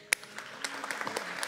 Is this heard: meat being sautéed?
no